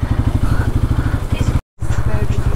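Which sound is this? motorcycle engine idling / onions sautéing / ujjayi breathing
motorcycle engine idling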